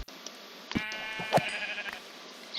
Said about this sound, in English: Is that a sheep sound?